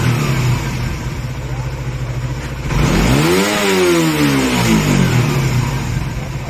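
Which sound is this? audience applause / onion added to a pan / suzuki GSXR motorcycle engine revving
suzuki GSXR motorcycle engine revving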